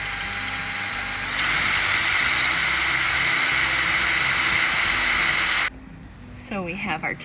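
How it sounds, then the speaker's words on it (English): Power drill boring a hole through the bottom of an old wooden bed frame, a loud steady whine that rises in pitch partway through and cuts off abruptly, followed by brief faint noise. "Now let's drill that hole through the bottom of the bed frame."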